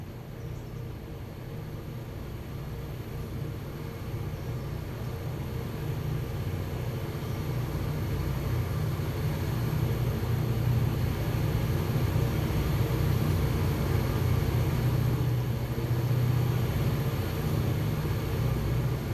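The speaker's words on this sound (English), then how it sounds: "I hear some engines coming." Train engines rumble steadily in the Railroader video game, a low drone that builds gradually as the locomotives draw nearer, with no voices.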